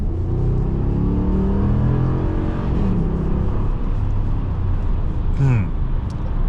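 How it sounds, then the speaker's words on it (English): A 2022 Ram 1500 Classic V8 pickup truck makes a light acceleration from 40 to 100 on the road, its engine drone steady and rising beneath someone speaking inside the cab. "we're gonna do a light acceleration going from 40 all the way up to 100."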